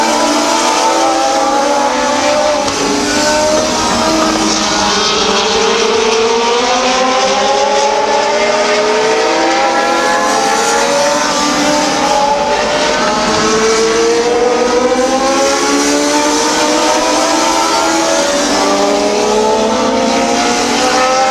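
Race cars on a short oval speedway run bumper to bumper in a pack, their engines a steady loud drone with rising and falling pitch sweeps as they circle past, continuous throughout without talk.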